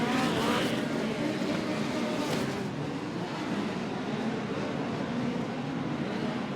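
Midget race cars roar around a dirt oval at Port City Raceway, a dense, steady wall of engine noise from several cars at once that stays loud throughout with no quiet gaps.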